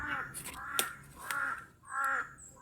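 Crows caw loudly and nearby in a hilly outdoor spot, with three harsh, drawn-out calls at an even pace.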